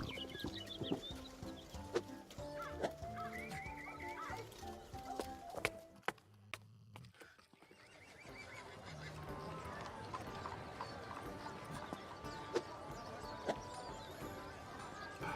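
Horse in the cartoon adventure game Repella Fella, rhythmic clip-clop hoofbeats with a neigh amid playful game music, a brief hush in the middle before the music and hoof sounds return.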